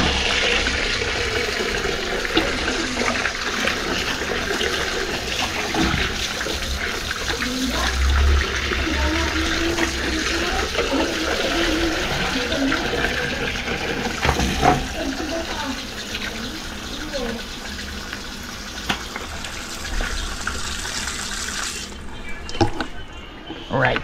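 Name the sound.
water running while washing fish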